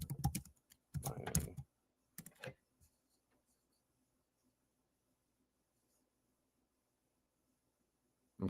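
Typing on a computer keyboard, a few quick close bursts of key clatter in the first three seconds, then near silence until a last tap at the end.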